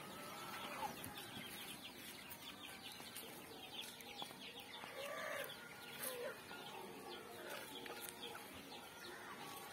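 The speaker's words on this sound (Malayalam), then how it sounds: "നാടൻ കോഴി വളർത്തൽ." Native country chickens raised free-range on a farm cluck steadily and close by, with scattered squawks, a possible crow and other birds mixed in throughout.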